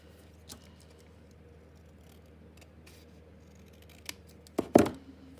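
Scissors snip through a piece of black paper during a scrapbooking craft session, a few faint clicks followed by two sharp close cuts near the end, alone without talk.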